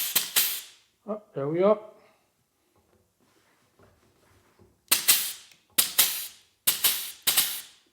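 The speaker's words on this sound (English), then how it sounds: "So let's now hook up the grease gun to the pneumatics." A Michelin pneumatic grease gun is hooked to an air line, with sharp loud hisses and clicks at the start and a burst of four quick pneumatic blasts toward the end, plus a short spoken exclamation in between.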